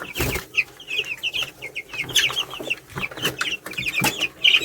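Organically raised chickens cluck repeatedly at close range, with short irregular calls and some scuffling and bumps between them, and no talking.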